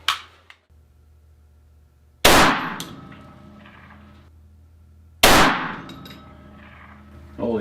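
Two sharp, loud rifle reports from a 6mm ARC AR-15 built on a small-frame lower, fired outdoors several seconds apart, each followed by a long echoing decay and ringing tail.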